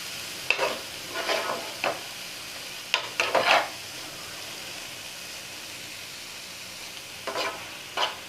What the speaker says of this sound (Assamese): এনেকৈ মই বেছি নহয়, প্ৰায় 2 মিনিট সময় ভাজিম। ইয়াৰে যিখিনি পানী থাকে বন্ধাকবি আৰু গাজৰ, সেইখিনি নোহোৱা হোৱালৈকে ভাজিম।